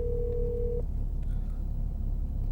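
A single steady ringback tone sounds as a phone call connects, holding for under a second before cutting off and leaving a low hum with no speech.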